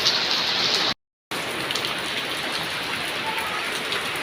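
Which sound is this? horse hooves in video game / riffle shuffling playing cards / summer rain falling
summer rain falling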